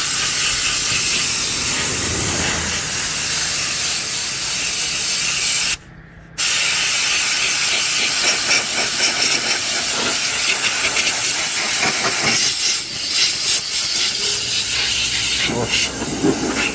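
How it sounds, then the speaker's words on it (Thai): Compressed air is blasted out of a clogged vehicle radiator filter, giving a loud, continuous roaring hiss with brief surges and one short cut-off partway through. "ปั๊มลมต้องใหญ่ หน่อย ทำงานตลอดเลยนะครับ เพราะว่ามันใช้ลมลมเยอะนะครับ ใช้ลมแรง"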